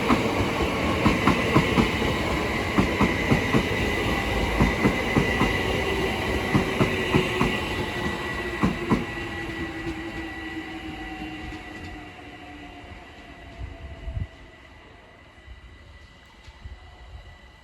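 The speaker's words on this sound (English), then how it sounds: "Now arriving is the 1332 London Overground service from Hybri and Islington to Crystal Palace" A London Overground train pulls into Sydenham station, a loud rumble of wheels with steady clickety-clack over rail joints, then a long descending squeal of brakes as it slows and the noise fades.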